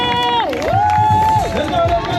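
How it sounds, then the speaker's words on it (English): A crowd cheers and shouts at the finish line of an open-water swim race in rough sea as girls come in. The cheering runs throughout, with a sustained, sweeping tone rising and falling over it. "cheer up for the girls coming across the finish line"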